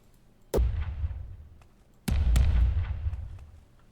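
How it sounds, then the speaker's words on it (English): Two heavy cannon blasts from a pirate ship fighting a monster in a turn-based video game, each a sharp boom followed by a long rumbling decay, the second with a quick extra crack. "Fire. Bunch of cannons at it."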